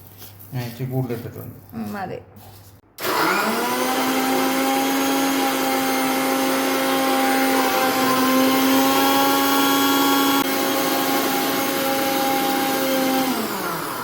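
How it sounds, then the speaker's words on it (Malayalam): Blender whirring loudly as it blends pineapple, sugar and ice into a shake, a steady motor drone lasting about eleven seconds after a few seconds of talk. "ഞാൻ അതെ പൈനാപ്പിളും ആ പഞ്ചസാരയും കൂടെ അടിച്ചത്"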